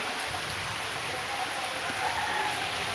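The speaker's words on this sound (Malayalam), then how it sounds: "പെട്ടെന്നാണ് മഴ വന്നത് പെട്ടെന്ന് തന്നെ പെയ്തു പക്ഷേ അത്ര ശക്തമായ മഴയൊന്നുമല്ല" Light, sudden summer rain falling in a steady soft hiss on surfaces, even and continuous throughout.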